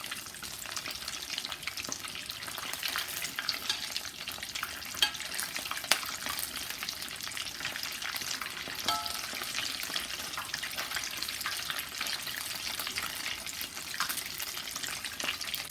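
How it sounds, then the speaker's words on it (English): Ham and cheese grits balls fry in hot oil after being flipped to the second side, giving a steady, dense sizzle and crackle that holds at an even level throughout with no talking. "now we're going to finish frying them on the other side"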